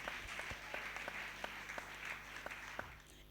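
A church congregation applauding, steady overlapping clapping with sharper individual claps, moderately distant and fairly quiet, heard alone without speech.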